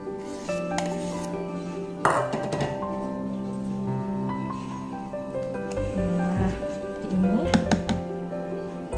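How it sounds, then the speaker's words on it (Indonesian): Pumpkin mantao dough is stirred in a bowl, giving scattered clinks and taps of a utensil against the bowl alongside soft scraping, fairly close, with a voice speaking intermittently. "Nah, biar sekalian diaduk jadi rata ya."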